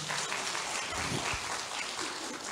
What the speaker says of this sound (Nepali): ताली बजाइदिनुहोस् न परमेश्वरलाई